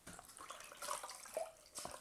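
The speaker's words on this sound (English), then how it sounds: "I'll rinse it now with the clean water" Clean water trickles and splashes while a mosaic stepping stone is rinsed, faint and close with a few soft drips and pours.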